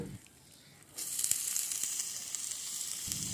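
Cumin and ginger pastes sizzle sharply in hot oil while being stirred for a rustic village-style khichuri, the hiss starting abruptly after a quiet moment and holding steady and close with occasional stir clicks.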